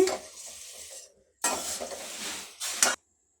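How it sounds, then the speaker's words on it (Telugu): Puffed rice frying in coconut oil for masala murmura, stirred in bursts of rustling, scraping sizzle with brief pauses between strokes and a clink of the utensil near the end. "చూడండి, ఇలాగ వేయించుకుంటే సరిపోతుంది."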